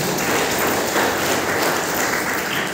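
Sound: audience applause

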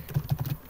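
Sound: typing on a computer keyboard

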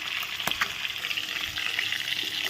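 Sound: catla fish pieces frying in oil

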